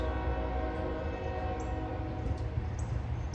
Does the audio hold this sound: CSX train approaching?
yes